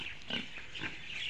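Pigs in a bamboo-built village pig farm, among them a pregnant sow, give a few soft, low grunts in quick succession, faint and close by, with no talk.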